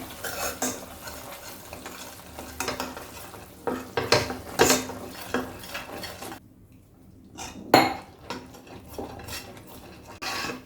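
Gram flour being stirred into a mixture in a pan for Mysore Pak, a steady run of scraping, clinking spoon-on-metal strokes with a soft sizzle underneath, close and unaccompanied by talk.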